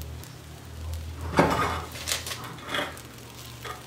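Cooked Puerto Rican rice with pigeon peas being broken apart and mixed in a pot, a few scraping, clinking strokes of a utensil against the pot over a low steady background hum.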